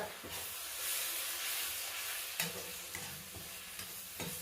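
Roasted ground spice masala is stirred in a hot pan, giving a continuous soft sizzling hiss with occasional scraping knocks of the utensil.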